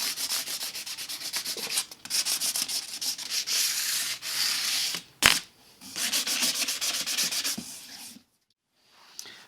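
Hand sanding a Fender Jaguar-style guitar body with 600-grit sandpaper, close rhythmic rasping strokes in long runs, broken by a sharp knock and brief pauses before fading to quiet.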